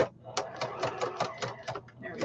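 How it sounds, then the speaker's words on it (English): A sewing machine stitches down a fabric flap held flat for a custom-sized traveler's notebook, giving a rhythmic run of repeated mechanical stitch pulses at close range, steady and moderately loud. "I'm going to hold my flap down so it sews down flat"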